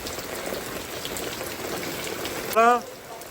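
Heavy rain with wind pours steadily over a village, a dense even hiss of drops throughout, with a brief louder human voice or call breaking in near the end.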